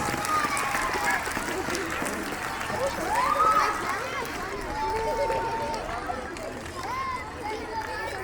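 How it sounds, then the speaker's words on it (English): Schoolchildren at an Independence Day celebration and investiture ceremony applaud the winning house, sustained crowd clapping mixed with cheering and chatter from a large gathering, steady throughout. "Go on clapping for them, children."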